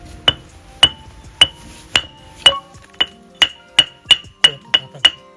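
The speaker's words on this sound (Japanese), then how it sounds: "割るときに金槌で中心こう割る真ん中のとこにこ" A hammer strikes a brick repeatedly to split it in half for a garden bed, eleven sharp ringing blows at a steady, slightly quickening pace, close and clear with no talking.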